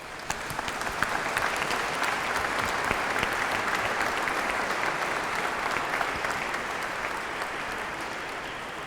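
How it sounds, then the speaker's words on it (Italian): Steady audience applause fills an event hall in Col San Martino, Treviso, as a local priest is welcomed at a concert ceremony; dense continuous clapping at moderate distance, sustained evenly throughout. "Un applauso a Don Carlo."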